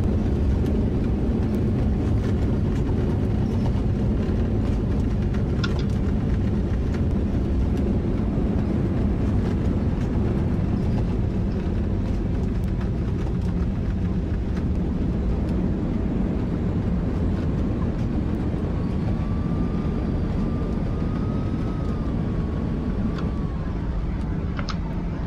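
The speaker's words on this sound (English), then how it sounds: "Reverse thrusters are on." Simulated Airbus A320neo in FS2004 rolling down the runway after landing, reverse thrust engaged with spoilers deployed: a loud, steady broadband engine roar throughout, with a faint rising whine near the end.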